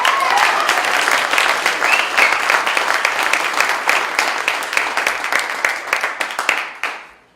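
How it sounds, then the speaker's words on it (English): A large crowd at a Trump political rally breaks into sustained applause, a dense roar of many hands clapping with a few shouts, holding steady for several seconds before fading quickly at the end. "Give him a round of applause."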